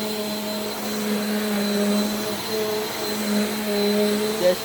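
A Bissell PowerForce Compact vacuum cleaner runs on carpet picking up fur, a steady motor whine with a high constant tone and slight surges in loudness as it passes over the pile.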